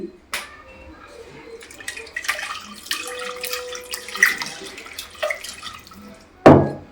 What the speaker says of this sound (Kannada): ಇನ್ನೊಂದು ಅರ್ಧ ಲೋಟ ನೀರು ಹಾಕ್ತಾಯಿದ್ದೀನಿ